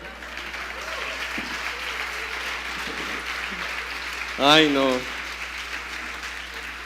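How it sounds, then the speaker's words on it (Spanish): A church congregation applauds steadily at a moderate distance, a broad even wash of clapping throughout, with a brief exclaiming voice cutting in near the middle. "Denle un aplauso a Dios."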